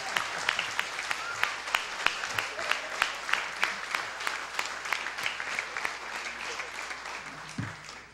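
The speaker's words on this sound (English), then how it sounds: "Get to your feet, stand," Congregation rising to a standing ovation for Bishop Jason at a Catholic liturgy, dense applause filling the church with steady rhythmic claps and a few sharp individual hand strikes above it, sustained at moderate loudness throughout.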